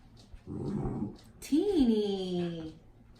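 A large caged dog gives a low rumbling growl, then lets out a rising, drawn-out whine or yelp close by, with some indoor background noise.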